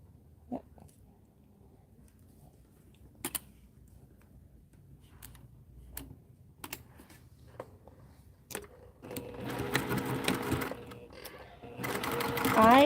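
A sewing machine stitches zipper tabs onto a double-zip fabric pouch. Scattered clicks and handling noises come first, then a close, rapid whirring burst near the end, with speech heard partway through.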